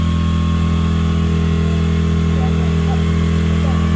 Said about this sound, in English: this is the high idle I was talking about